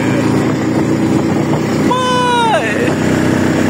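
A motorcycle rides along a village road toward the mosque on the first day of Hari Raya, its steady engine drone continuous and close, with a brief rising-then-falling revving sweep near the end while people talk over it.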